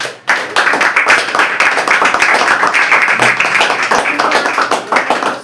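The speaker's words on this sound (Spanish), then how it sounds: "demos un aplauso a Dios" A church congregation breaks into applause after a sermon, a brisk burst of hand clapping that starts abruptly and holds steady, with some voices mixed in among the claps.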